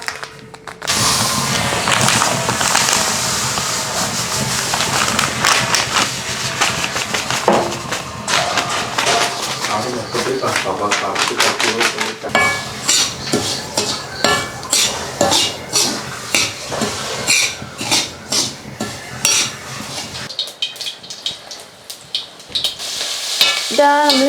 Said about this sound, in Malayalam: റവ ഇന്ന് ആദ്യം വറുത്തെടുക്കട്ടെ കേട്ടോ